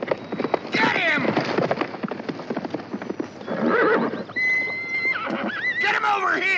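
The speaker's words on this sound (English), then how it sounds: "Stop that horse!" Horse neighing and whinnying with clip-clop hooves in a chaotic street scene; loud, repeated shrill whinnies over hoofbeats, with shouting voices throughout.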